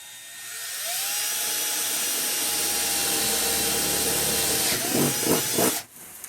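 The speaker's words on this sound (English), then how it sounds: "let's go ahead and drill the little dowel pin out first" A high-pitched power drill spins up and whines steadily at close range, then bites in with rattling grinding before stopping abruptly, drilling out a small dowel pin for a Ford Ranger door handle.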